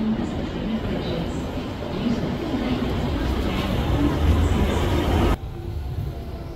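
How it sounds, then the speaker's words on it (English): A steady, loud rushing rumble of a London Underground Central Line train arriving at a platform, with rail noise building and then dropping abruptly near the end. "The next train to arrive alongside platform 1 will be a Central Line service"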